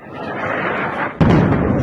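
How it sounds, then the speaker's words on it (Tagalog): Missile-attack explosion in Dubai during Middle East fighting: a steady rumbling roar broken by one sudden, loud, muffled blast, with no talk. "Mga pagsabog at iba pa."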